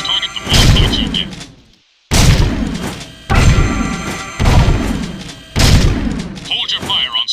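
Scattergun blasts at a target range in the video game Jak 2: six loud, booming shots fired one at a time, each with a crashing decay, spaced about a second apart.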